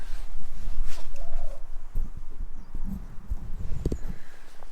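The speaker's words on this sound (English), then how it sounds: "So they got a few red hens while we were away." Red hens cluck in short, close bursts among scattered clip-clop thumps and movement noise, with no one talking.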